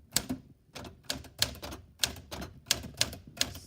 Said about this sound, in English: I'm just going to type a little bit first